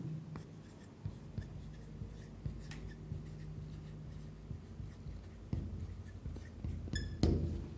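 Pen writing a date by hand on paper as part of a formal letter, steady close scratching strokes with occasional taps and small knocks, no voice over it.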